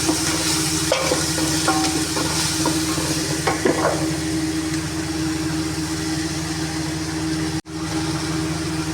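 Ginger and garlic hiss and sizzle steadily in a hot pan, a continuous close frying crackle with a few light clinks of stirring and one brief dropout near the end.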